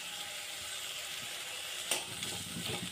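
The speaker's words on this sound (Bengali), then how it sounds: "আদাটা কিছুক্ষণ নাড়াচাড়া করে নেব, আদার কাঁচা গন্ধটা যাওয়া পর্যন্ত ভেজে নেব।" Chopped ginger and tomato fry in a pan for a vegetarian dish, giving a steady close sizzle with a brief stirring scrape partway through.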